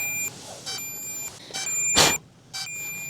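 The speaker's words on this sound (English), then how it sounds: "So you hear that flashing and beeping. That's the feature." DJI Mini 5 Pro drone's locator sounding a series of sharp electronic beeps, about four short bursts spaced unevenly over a few seconds, close by with no talking.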